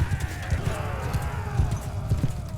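Horse hooves clip-clop steadily with an occasional whinny amid the clamor of a battlefield in Mount & Blade II: Bannerlord, loud and close, under a dense mix of game noise.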